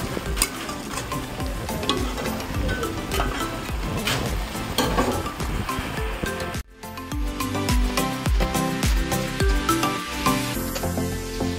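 Meat frying with curry leaves in a pan gives a steady, close sizzle, with stirring scrapes and clicks of utensil against the pan throughout. A brief break comes partway through, then the sizzling resumes just as strongly. No one speaks.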